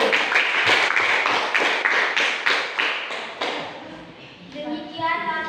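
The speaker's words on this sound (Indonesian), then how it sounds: "Tepuk tangan dulu." Classroom applause after a student discussion report on magnets and wood, rhythmic group clapping in regular beats that fades out, followed by a voice near the end.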